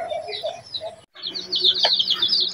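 Young chickens, chicks hatched at the end of February, chirp in a cluster of high, continuous peeping calls with a brief break partway through, fairly close and steady with no talk.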